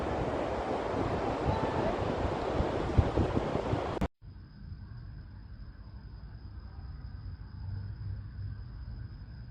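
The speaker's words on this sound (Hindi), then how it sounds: "तो यह है बॉक्खाली का वाइट सैंड वाला सुंदर सी बीच" Sea waves roar onto the white-sand beach at Bakkhali in rainy weather, with wind buffeting the microphone, then cut abruptly to a quieter, distant surf rumble.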